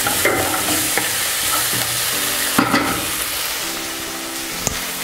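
Ground beef sizzling and frying in a pan while being stirred, a continuous crackling hiss punctuated by scrapes and clinks of a utensil against the pan.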